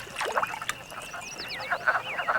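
Wood frogs croaking in a pond during breeding season: a busy chorus of short, rapid, clucking croaks overlapping from several frogs, fairly close and steady, with no voices.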